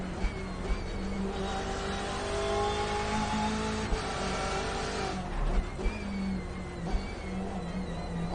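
A BMW M8 race car on the Nordschleife in iRacing howls at full throttle, its engine note rising and falling through shifts with a few faint clicks, heard alone without talk.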